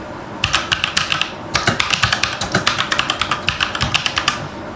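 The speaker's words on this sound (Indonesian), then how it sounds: "untuk spasi, enter, dan juga backspace-nya itu beda dengan kalau ketika kita ngetik di bagian hurufnya" Typing on a Fantech Maxpower MK853 V2 full-size mechanical keyboard, with a steady stream of sharp, close clicks in quick bursts, a short pause near the start, and heavier thocks from the space, enter and backspace keys.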